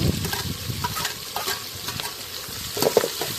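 Thinly sliced onions tossed into oil with dried red chillies for a village-style gongura dish, crackling and sizzling close by while a spoon scrapes and stirs the pan in uneven bursts.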